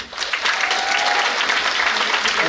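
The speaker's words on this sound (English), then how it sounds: "Can we give orchestra one more round of applause?" Audience applause for a school orchestra at a winter holiday concert in a school hall, steady sustained clapping from a full crowd, loud and even throughout.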